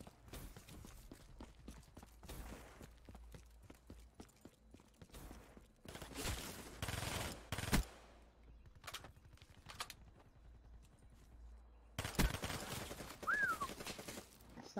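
Gunfire in the multiplayer video game Battlefield V, scattered shots and short bursts at mid distance, with two louder stretches of rapid fire among quieter gaps.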